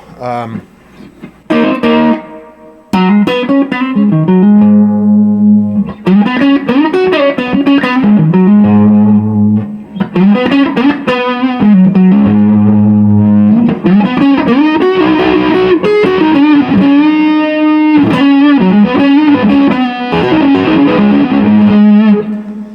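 An electric guitar played through a germanium Fuzz Face pedal with a little reverb, fuzzy distorted tone, chords and sustained notes ringing out loudly with short pauses between phrases.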